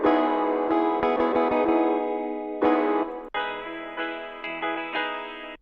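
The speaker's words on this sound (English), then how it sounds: "Let's add a little bit of reverb into it." A bright synth plays sustained chords and plucked notes washed in heavy reverb and effects, the tails ringing out between phrases.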